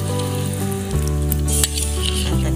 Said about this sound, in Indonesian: Nah, ini baru masukin santannya.